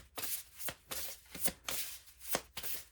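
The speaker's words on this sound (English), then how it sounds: "Let's shuffle again." Tarot cards being shuffled in a series of crisp riffling bursts, about six quick rhythmic flurries close up, with no voices.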